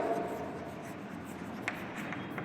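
A pen scratching steadily across paper while writing the date on a letter, soft and close, with a few small taps and rustles.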